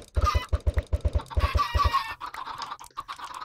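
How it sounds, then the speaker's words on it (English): Chickens in the video game Minecraft cluck in a rapid run of short, loud, close-up calls, followed by softer, scattered game sounds. "So many chickens, so many eggs"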